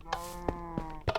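Cows in the video game Minecraft give several short, separate, quiet moos and grunts over a faint steady background hum, with no talk.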